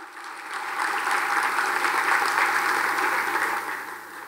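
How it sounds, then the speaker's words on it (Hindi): An audience at a book launch during a college theatre festival's inaugural session applauds in a steady round of clapping that swells, holds and fades over a few seconds, with no speech on top. "जोरदार तालियां होनी चाहिए।"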